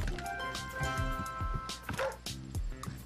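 Cartoonish dog barks and yips from the Scribblenauts Unlimited video game, a few short bursts over a busy musical game soundtrack, fairly quiet and mixed in.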